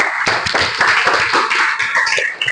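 Classroom audience in a computer networking and telecommunications lesson gives a round of hand clapping, fairly loud and close, a busy burst of overlapping claps with a few stray voices mixed in.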